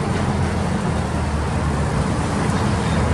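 A 1998 Clark CGC25 5,000 lb cushion tire forklift running, a steady loud engine drone with broad, noisy rumble held evenly throughout, no voices.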